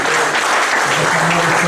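Church congregation clapping and cheering together, a dense, loud, continuous burst of applause filling the room.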